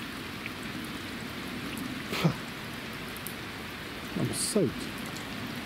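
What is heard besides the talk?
rain falling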